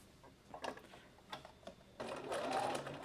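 A sewing machine back-stitches a bag, starting with a few short, quiet mechanical bursts and then running in a louder, steady whirring stretch near the end, with no talking.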